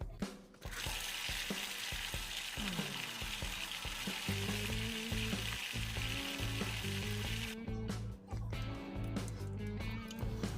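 Green onions frying in butter with a constant loud sizzle, while utensils scrape and clatter rhythmically against the pan and a low hum sits underneath.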